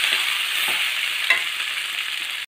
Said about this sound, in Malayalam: ഈ ഉള്ളി എല്ലായിടത്തും പിടിക്കുന്നത് വരെ ഒന്ന് ഇളക്കിക്കും